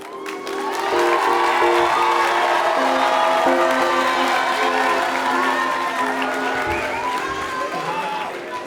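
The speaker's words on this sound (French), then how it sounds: "ce que je vais demander, c'est d'applaudir mon assistant en fait qui va venir avec moi" An audience at a variety show applauds and cheers the performer's assistant: continuous loud clapping with whoops and crowd noise, swelling quickly and holding steady before easing slightly toward the end, with some voices mixed in.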